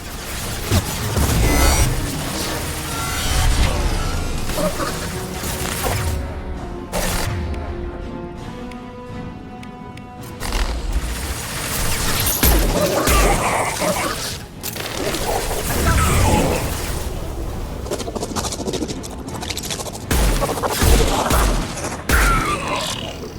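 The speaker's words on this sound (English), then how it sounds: "Firing a high-impact shot." Heavy gunfire from a high-impact shot in the video game Mass Effect 2: loud, booming bursts and crashes layered over dense combat noise, with grunts throughout and a voice speaking at points.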